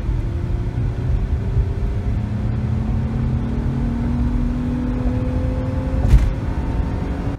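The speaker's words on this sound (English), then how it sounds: "I'm going to go ahead and wind out first and second gear, which means I'm pretty much just going to floor it." A Nissan Murano with a rough-running engine fault is floored through first and second gear, its engine drone climbing steadily in pitch, dropping at a gear change near the end, then rising again, with no talking.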